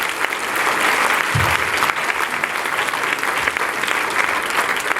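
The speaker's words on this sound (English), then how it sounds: "Can we give them a round of applause?" Audience applause at a third-grade school holiday show, a dense, even crowd of clapping sustained from start to finish, fairly loud and without speech over it.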